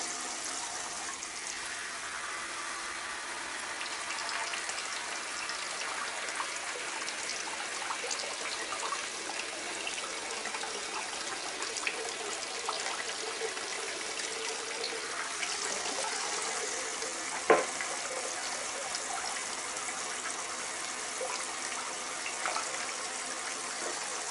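Steady trickling water pours from a camping shower onto sand, a continuous soft splashing flow that stays even throughout with one brief knock partway through and no voices.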